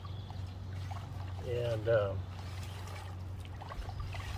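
Hands squish and knead a wet clay slurry in water while cleaning dirty clay into fine suspended particles, giving brief soft liquid squelches and pouring trickles around the middle under a low steady hum, with a person talking.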